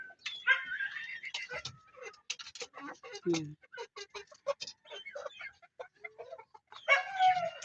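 Three-month-old chickens on a farm cluck and call intermittently at close range, with scratching sounds and a few louder squawks, while someone talks throughout.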